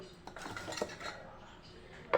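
A steel mixer jar is picked up and handled in a home kitchen while coconut laddu with jaggery is being made, giving a few light metallic clinks and knocks, with a sharper clatter at the end and no talk.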